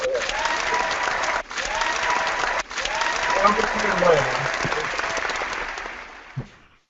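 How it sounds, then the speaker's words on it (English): A crowd claps steadily for several seconds, with a voice speaking over the applause before it fades out. "give Mark a round of applause"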